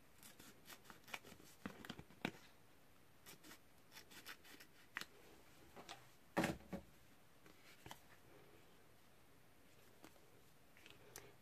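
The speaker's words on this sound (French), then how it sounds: "Ensuite, simplement, vous découpez avec votre ciseau autour." Scissors snip around the edge of a paper card for a handmade spring greeting card, giving quiet, intermittent crisp cuts spread across the stretch with no talking.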